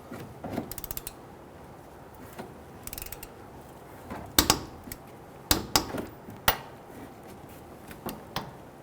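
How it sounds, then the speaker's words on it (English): Wheel hub bolts on a Nissan Quest are torqued with a wrench: scattered ratcheting clicks and metallic clacks come in short bursts, close and moderately loud, with quiet gaps between them. "I'm going to do the torquing in a crisscross pattern as well"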